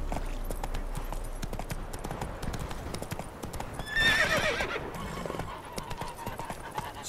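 Roach, Geralt's horse in The Witcher 3 video game, trots with steady clip-clopping hoofbeats over a continuous outdoor backdrop, and a short whinny rises midway.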